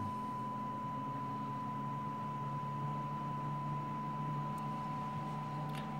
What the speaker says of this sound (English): If you notice, that's a perfect sine wave